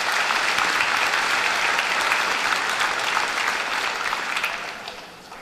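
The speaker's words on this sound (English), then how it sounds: "give those gentlemen a round of applause for their work with that" A high school graduation audience applauds, a loud, dense round of clapping from a large crowd that holds steady and then tapers off.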